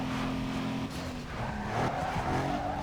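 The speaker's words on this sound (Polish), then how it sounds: "Ale odrabiają, że nawet słychać te inne samochody." Rival race cars in Need For Speed Underground 2 roar past with loud engine drone, rising revs and tire squeal, the sound steady and close throughout.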